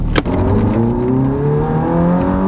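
A Ferrari engine revs loudly and close by, a steady rising drone with climbing harmonics after a brief sharp click at the start.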